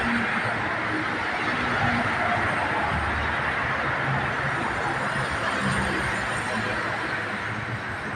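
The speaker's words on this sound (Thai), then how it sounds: "ขบวนรถไฟฟ้า BTS สายสีลมครับ" A BTS Silom Line elevated electric skytrain in Bangkok runs continuously with a steady rushing rumble and faint rail noise, no pauses throughout.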